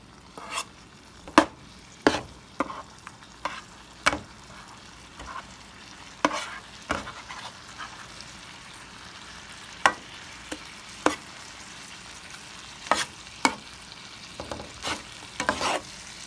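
Jerk shrimp frying in a pan give a steady low sizzle, broken by sharp, close clicks and scrapes from a utensil flipping the shrimp, with no talking.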